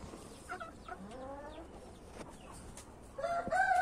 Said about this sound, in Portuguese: E aí tá o galo